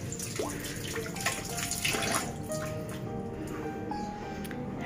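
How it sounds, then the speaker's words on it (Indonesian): Tap water runs steadily into a sink as hands are washed in an old family house, a close, continuous splashing hiss with small squishy drips and no talk. "Oke, sini Bunda mau cuci tangan dulu."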